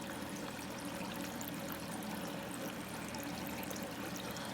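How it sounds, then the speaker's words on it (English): Slow water flow trickling and pouring into a grow bed fed by an external siphon, a continuous even stream of splashing with no pauses or voices. "I want to show you the water flow that's coming into my water bed."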